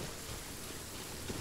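Rain pours in the video game Genshin Impact with low rolling thunder, a brief, fairly faint, steady wash of noise with a soft rumble beneath and no talking.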